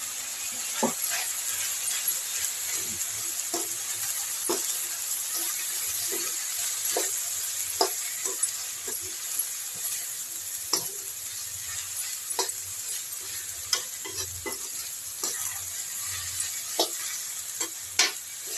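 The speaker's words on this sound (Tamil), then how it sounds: "நல்லா வதக்கி விடுங்க." Lotus stem dusted with chilli powder is stir-fried in a pan, with a steady sizzle and regular scraping strokes of a spatula across the metal, heard alone and fairly close.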